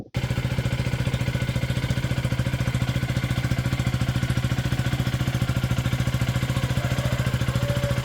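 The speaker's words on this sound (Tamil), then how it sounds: "இது வந்து ஐடியல் சவுண்டு" A KTM Duke 250 motorcycle engine idles steadily with a rapid, even thumping pulse, close and continuous throughout.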